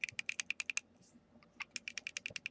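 Sharp button clicks on an IPV 2 50 watt vape mod, close and crisp, in two quick rhythmic bursts of about eight presses each with a short pause between, heard alone with no talk.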